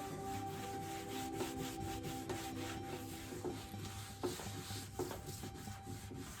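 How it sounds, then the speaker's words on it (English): A rag rubs wood stain across a wooden board in soft, repeated scuffing strokes, faint and close, with no voices. "We're just gonna take our stain and rub it all over the board."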